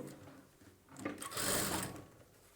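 A sewing machine runs a seam on a boat neck blouse, stitching over an existing seam. It makes one brief, close mechanical whirring burst that swells and then fades.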